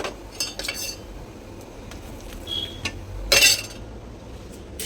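A spoon clinks lightly against dishes in a home kitchen during paratha making, with scattered soft taps and one brighter, louder clink near the end over quiet room noise.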